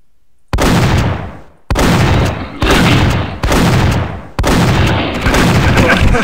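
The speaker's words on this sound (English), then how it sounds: "It's a good shotgun noise, though." Video game shotgun blasts, five loud booming shots in a row at uneven intervals, each with a short decaying tail, up close with no talking.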